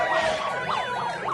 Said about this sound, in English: Somebody's got a megaphone with just siren blaring